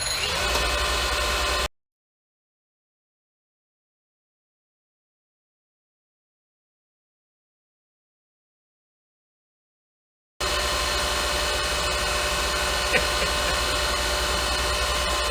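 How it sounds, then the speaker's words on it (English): A Monarch 10EE lathe cutting a spindle idler pulley wheel gives a steady, loud mechanical drone with a constant hum at the start and end, separated by a long silent gap. "make contact from the other side, and start cutting this wheel"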